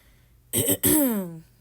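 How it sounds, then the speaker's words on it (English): A single throat clearing, close and loud: a short rasping burst, a brief break, then a longer gravelly rumble that fades out. "gotta clear my throat"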